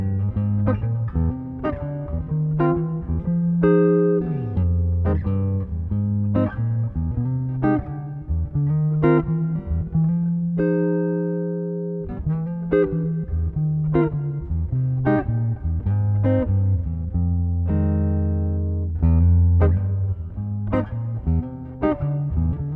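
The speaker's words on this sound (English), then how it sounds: "I'll turn off the mic so you hear the guitar." Jazz guitar plays a walking bassline, one low note on each beat with a few chord stabs between them. The steady line sounds up close and clean for about twenty seconds, with no voice over it.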